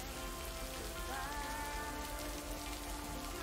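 Heavy rain falls during a thunderstorm, a dense, constant hiss and patter on surfaces that fills the whole moment evenly, steady and fairly loud, with no voices.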